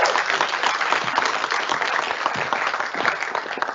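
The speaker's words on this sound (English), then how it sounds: "I think you deserve a bigger applause for the Scottish Government" Sustained audience applause fills a hall at a climate-finance event, dense steady clapping from many hands throughout, with no pauses or voices standing out.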